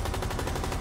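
Rapid automatic gunfire from a weapon in the video game Rainbow Six Extraction, a dense, steady burst of repeated shots filling the whole moment at moderate level.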